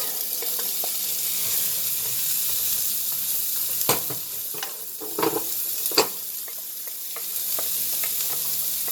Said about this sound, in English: The gravy, and we're using our dirty pan, and we're gonna add the onions.